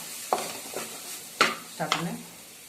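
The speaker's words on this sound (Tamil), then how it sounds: "ஸோ இப்போ நம்ம தக்காளி போட்டதும் நல்லா வணங்கிக்கிறோம்" Tomatoes and onions sauté in a pan, stirred with a spatula. A few short scraping strokes and soft sizzling bursts come close and clear, spaced irregularly over a couple of seconds.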